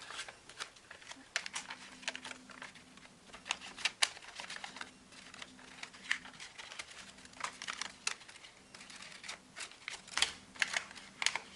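Paper being folded and pinched into an origami sunflower, a run of close, crisp crinkles and small taps that come in irregular bursts over a faint low hum, with no voices.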